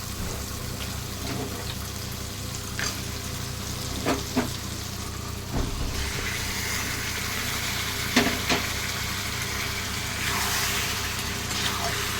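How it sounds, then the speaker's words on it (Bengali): Chicken pieces go into a pan of fried-down spice paste for a waterless chicken kosha, bringing a steady low sizzle with a few scraping stirs and clatters of the spoon, close and fairly quiet. "এবার এর মধ্যে আমি মাংসগুলো দিয়ে দেবো।"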